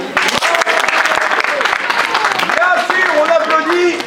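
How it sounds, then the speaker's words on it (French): Loud, continuous applause from a theatre audience at a comedy show, dense clapping throughout with shouting and cheering voices mixed in. "Évidemment, on applaudit Rémi."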